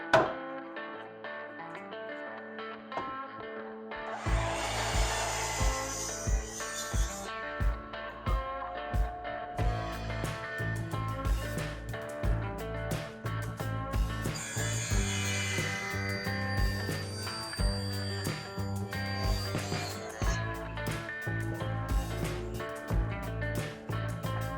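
Power tools mill a wood blank for a turned rolling pin. A loud buzzing machine drone runs with repeated pulsing bursts and high whining passes, and there is no speech.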